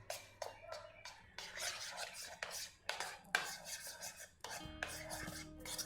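A spoon stirs and scrapes through boondi raita in a bowl, with soft repeated rasping and clinking strokes, quiet and close, without speech.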